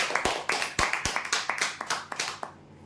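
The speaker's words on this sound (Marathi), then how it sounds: "जोरदार टाळ्या" A small group clapping at a prize draw announcement, about a dozen sharp, slightly uneven claps heard close by that thin out and stop near the end.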